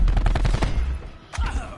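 Maddox rifle fire in Call of Duty Black Ops 4 crackles as a rapid string of close, loud automatic shots, a brief pause, then another short burst.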